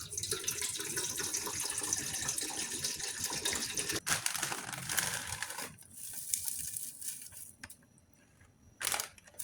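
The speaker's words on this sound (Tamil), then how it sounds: "தண்ணியை ஊற்றிக்குவோம்." Water poured into a cooking pot while making jelly, a steady close gushing splash running for several seconds before stopping, followed by quieter handling sounds and a brief final splash.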